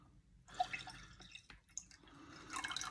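Jumbo chamoy pickle liquid poured out, with soft splashing pours and scattered close drips in two bursts separated by a brief lull, fairly faint.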